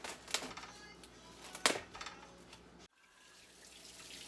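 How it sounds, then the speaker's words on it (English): Running tap water splashes over raw meat being washed in a sink, with a couple of sharp splashes early, then the flow cuts off near the end, leaving quiet. "I'm going to wash each piece, because you never know who's been handling it"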